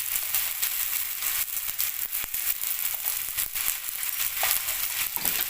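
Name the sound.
frying spice paste with salt in a pan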